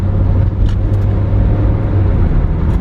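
A Toyota AE85 Levin with low original mileage drives along, its engine and road noise forming a loud, steady rumble with a few brief higher ticks from the cabin.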